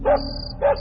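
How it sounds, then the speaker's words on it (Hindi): Two short barks from a street dog, spaced about half a second apart, sharp and fairly close, with a faint high tone behind them. "गली के कुत्ते भौंक रहे थे"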